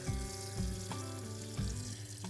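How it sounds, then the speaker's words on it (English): Water rushes steadily from an opened sprinkler zone valve drain outdoors, a continuous close splashing flow with a low rumbling gurgle and a few stronger surges. "The water's now draining"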